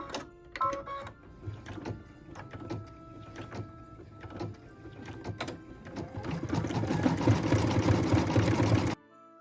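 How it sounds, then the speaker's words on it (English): An embroidery machine stitches a red holly berry detail on a Christmas tree skirt. It runs with uneven mechanical clicks and whirring that grow into a louder, dense, steady stitching run near the end before stopping. "we're going to stitch the holly berry detail"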